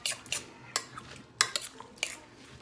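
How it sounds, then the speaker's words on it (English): Spoon stirring chicken taco soup in a metal pot, giving a handful of scraping clinks and knocks against the sides at an irregular pace, close and fairly quiet, with no talking. "Let's give that a good stir."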